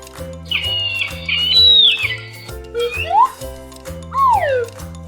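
An eagle calls with several shrill, high whistling screeches, some sliding downward in pitch, set over steady background music.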